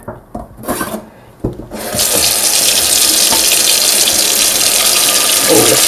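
A sink tap comes on after a few clattering knocks and then pours water loudly and steadily, a close, continuous hiss that fills the rest of the moment.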